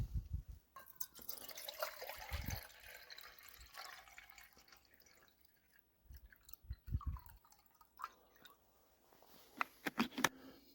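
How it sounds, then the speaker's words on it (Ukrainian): Half a litre of water pours and splashes into a camping stove pot in quiet, uneven bursts, with gurgles and light clinks of metal at close range. "Наливаю пів літри води."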